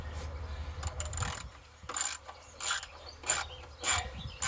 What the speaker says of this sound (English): the background noise as they're harvesting still in the field opposite